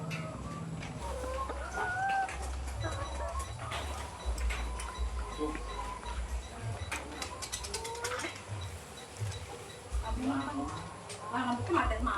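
Chickens at feeding time in a large egg-laying poultry house cluck and chirp in a busy chorus alongside mechanical clanking and rattling as feed is stirred, with people talking in the background.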